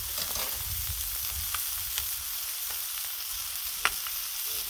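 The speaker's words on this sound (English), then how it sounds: "Ooh, listen to that sizzle." Chicken halves fry on a Blackstone griddle, giving a steady, soft crackling sizzle with occasional sharper pops and no voices.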